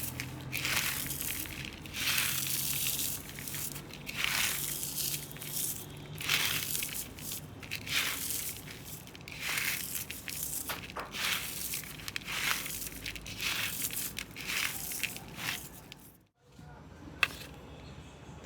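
Crispy fried onions (beresta), cooled after frying, are crushed by hand for a Bengali chicken dish, making close, repeated dry crackling and crunching bursts that stop in a brief silence near the end.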